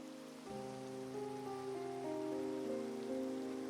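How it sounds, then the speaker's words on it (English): Video game rain falls as a soft, steady patter, with sustained musical tones underneath. "This rain is absolutely ridiculous."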